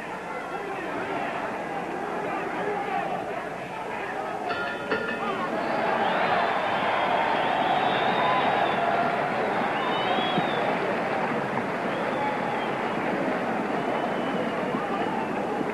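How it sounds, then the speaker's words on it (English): Boxing crowd at a Las Vegas fight, a broad sustained roar that swells and holds steady for several seconds, with a commentator speaking over it. "Well, the crowd is roaring."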